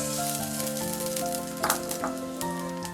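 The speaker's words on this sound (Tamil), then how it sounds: "இப்போ கிரேவிக்கு மசாலா வதக்க எண்ணெய் ஊத்தியாச்சு." Spices such as fennel, cumin and dried chilli sizzle in hot oil for a mushroom masala gravy, a close continuous frying hiss with a couple of brief stirring scrapes, no voices.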